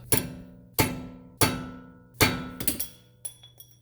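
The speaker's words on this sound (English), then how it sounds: "take that punch and the big hammer and stake this wonderful nut" A big hammer strikes a punch four times with ringing clangs, staking the CV shaft nut on a 2022 Honda Civic, then several lighter, quicker taps follow, close by.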